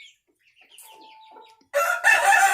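A chicken clucks loudly and close on a small suburban backyard farm, a harsh burst of vocalizing after quieter soft chirps and a faint thin tone.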